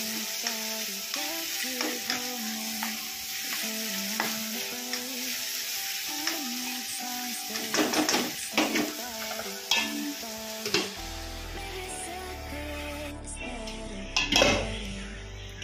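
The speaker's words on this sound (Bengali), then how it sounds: "ভাজাটা, পেঁয়াজ আর টমেটো ভাজাটা" Onion and tomato frying in a pan for a chhana ball curry, a steady sizzle with repeated metal spoon scrapes and clinks as the mixture is stirred, close and clear with no talking.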